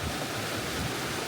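Takizawa no Fudotaki, a waterfall in Gunma, Japan, in winter, gives a steady, loud, full roar of falling water with no breaks and no voices.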